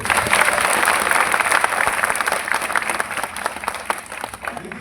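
Audience at a live comedy show in Mumbai applauding, a loud sustained wash of clapping that holds steady for several seconds and then thins slightly toward the end.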